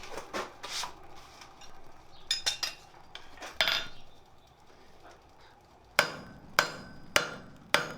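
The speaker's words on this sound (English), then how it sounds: "Forging them both at the same time." A hammer strikes hot orange steel while forging a pair of wolf jaw tongs. Scattered light taps and clinks lead into a steady series of sharp, ringing blows near the end.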